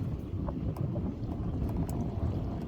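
Steady wind gusting over an open boat on the water during trotline crab dipping, a constant low rumble with faint splashes and creaks, no voices.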